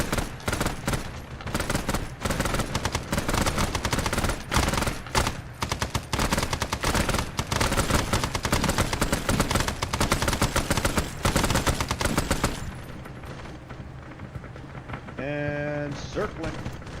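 Dense, sustained automatic gunfire pours at a bunker in a Warhammer 40k military game, loud bursts rattling almost nonstop for about twelve seconds before dropping away to quieter background rumble and a brief radio-like tone.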